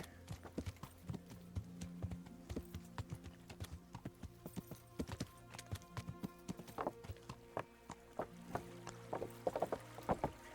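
Steady, rhythmic horse hoofbeats clip-clop close by in the video game Kingdom Come, one after another at a walking pace, over a faint tonal background.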